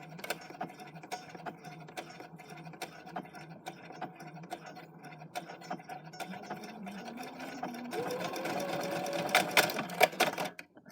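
A sewing machine stitches fabric scraps in a fast, steady mechanical run of needle clatter that grows louder and busier toward the end, close by, with no talking.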